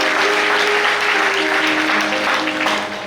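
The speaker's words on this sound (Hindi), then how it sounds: "इसलिए आप ताली बजा सकते हैं पहली बार इनके लिए" Wedding guests applaud the couple with steady, dense clapping from a crowd indoors, loud and sustained throughout before easing slightly at the end.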